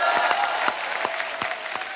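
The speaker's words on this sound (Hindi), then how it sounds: "आपकी ये तालियां, ये सीटियां हमारे लिए ऑक्सीजन का काम करती हैं" Live audience applause at a film industry event, a dense ongoing clapping roar with sharp individual claps standing out at a steady rhythm.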